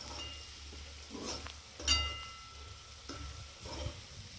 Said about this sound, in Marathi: हे सगळं हलवून घ्यायचं, परतून घ्यायचं